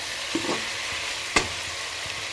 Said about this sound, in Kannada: ಸೊ ಇವಾಗ ಇದನ್ನು ಒಂದ್ಸರಿ ಮಿಕ್ಸ್ ಮಾಡಿಬಿಟ್ಟು ಹೀಗೆ.